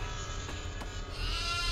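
A goat in the horror game Devour bleats in a drawn-out, wavering cry that grows louder toward the end, over a low rumbling ambience.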